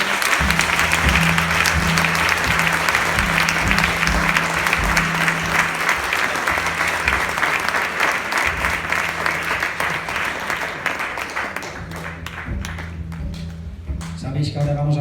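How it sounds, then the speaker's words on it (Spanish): Church congregation gives a long, loud applause for about fifteen seconds, dense continuous clapping over a sustained musical tone, thinning near the end as a voice and music come through. "Denle un fuerte aplauso al Señor"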